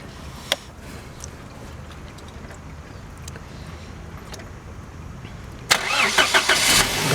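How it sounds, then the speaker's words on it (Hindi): A car engine cranks and catches close by after several seconds of near quiet, bursting into a loud, rough start near the end; a couple of sharp clicks come earlier, with no talk. "स्टार्ट करें जी गाड़ी ज़रा।"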